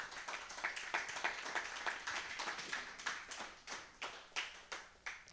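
A church congregation claps in a sustained round of applause, a dense patter of many hands with rhythmic swells, moderately quiet and without speech.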